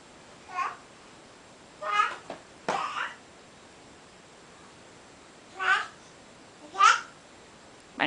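A one-year-old toddler imitates a cat meowing with a few short babbling meow-like calls spaced apart, close and fairly loud in a quiet room.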